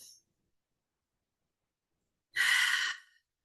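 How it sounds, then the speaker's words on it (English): A single deep breath during a community prayer circle: one soft, close, breathy exhale lasting under a second, surrounded by silence. "Taking another breath here."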